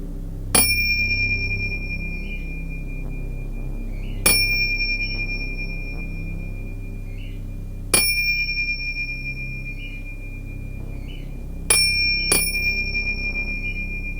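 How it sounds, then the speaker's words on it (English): A clear bell rings out five times at slow, uneven intervals, each bright strike lingering and fading over a quiet low hum. "listen to the bells"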